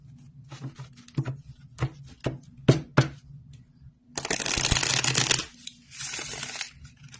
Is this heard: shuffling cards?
yes